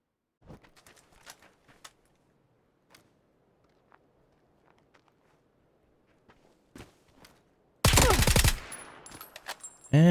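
Gunfire from a bolt-action rifle in PUBG: a few sparse, sharp shots amid soft footsteps, then a sudden loud burst of heavy, crackling fire near the end.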